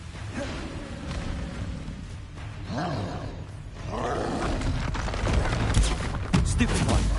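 A Confringo blasting spell from Hogwarts Legacy goes off as a series of roaring booms and crackling blasts under constant game noise, getting louder and denser toward the end.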